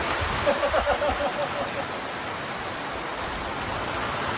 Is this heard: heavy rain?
yes